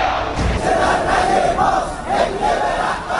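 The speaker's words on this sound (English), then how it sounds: "massive anti-government protests enter now their eighth day with scenes like these" Massive crowd of anti-government protesters in Iran chanting and shouting in unison, a loud, dense roar of many voices with rhythmic swells.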